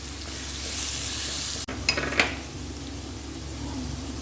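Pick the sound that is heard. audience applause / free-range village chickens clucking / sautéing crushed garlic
sautéing crushed garlic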